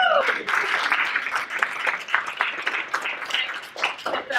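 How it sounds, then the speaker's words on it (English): An audience at a sales seminar applauds, with scattered sharp claps and a cheer or two forming a lively, uneven patter with nobody speaking over it. "we've never clapped this much in an event before"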